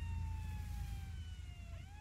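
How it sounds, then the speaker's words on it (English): A police car siren in the military video game ArmA wails steadily with sliding, overlapping tones above a low engine-like rumble, continuous and fairly distant. "Sounds like a cop car."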